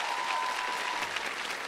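A studio audience on a Colombian TV comedy talk show bursts into steady, dense applause, loud and continuous for the whole stretch with a faint tone briefly underneath.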